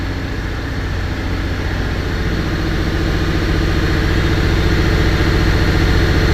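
A 1997 7.3-litre turbo diesel truck engine idles steadily and loudly with a deep rumbling throb, a faint high turbo whistle riding on top, no voices.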